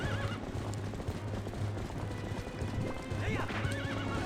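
Horse neighing and clip-clopping hooves in the video game The Legend of Zelda: Twilight Princess HD, with whinnies rising twice over a steady galloping hoof rhythm and game music, close and fairly loud.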